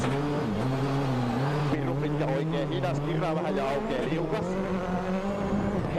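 A WRC rally car at Rally Argentina 2007 flashes past packed grandstands, its engine droning with steady rising and falling pitch, loud and continuous, while a commentator talks over it throughout.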